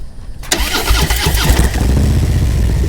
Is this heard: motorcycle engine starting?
yes